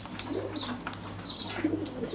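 Pigeons cooing softly in a loft, low murmuring calls recurring through a steady background hum, with faint chirps mixed in.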